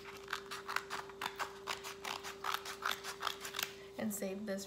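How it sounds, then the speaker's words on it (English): Scissors cutting across fabric for a purse, a run of quick snipping and sliding blade clicks close by, a steady tone humming underneath, and a brief rustle at the end. "I'm actually going to cut across this top"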